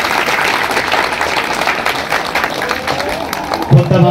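A crowd of devotees claps steadily and densely throughout at an outdoor gaushala cow-wedding anniversary ceremony in Jogipet, with a louder burst near the end and murmuring voices mixed in.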